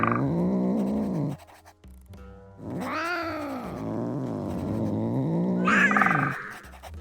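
A cat growls and yowls in the video game Drova - Forsaken Kin, giving several drawn-out, close cries with short pauses between them.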